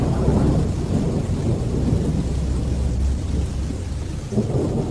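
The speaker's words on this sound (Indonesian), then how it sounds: "Hujan gerimis mulai turun." Heavy rain with thunder roars loudly and continuously, a dense wash of downpour with deep rolling rumbles underneath and no pauses throughout.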